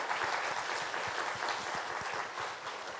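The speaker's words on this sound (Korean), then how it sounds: "큰 박수로 격려하고 또 영광 돌리겠습니다" A church congregation applauds steadily during a Sunday afternoon worship service honoring Sunday school teachers, a dense, even wash of many hands clapping at full volume from start to finish.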